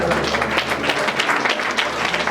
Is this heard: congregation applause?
yes